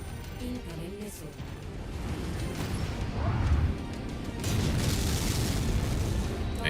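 Missile explosions in a MechWarrior game, a run of heavy booms and crashing blasts building in loudness, with rumbling low impacts and debris-like clatter layered over continuous battle noise.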